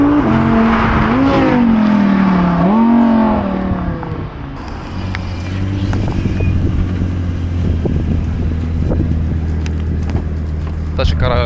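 An Audi R8 rumbles with a low, steady engine drone that rises after people finish talking loudly, near and continuous without a distinct swoosh of a pass.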